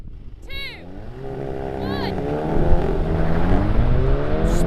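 A VW Golf Clubsport with ESC switched off spins its wheels at launch, with a loud rising engine roar and tire chirps at the start, the noise building and staying strong to the end.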